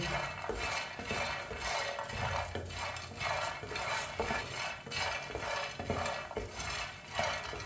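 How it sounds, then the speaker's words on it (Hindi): Fox nuts and walnut kernels roasting in a pan over low heat are stirred with a utensil, producing repeated scraping and light rattling strokes in an irregular rhythm, close and moderately quiet, with no speech. "अखरोट की गिरियाँ डाल लेंगे साथ, इसे भी साथ भून लेंगे।"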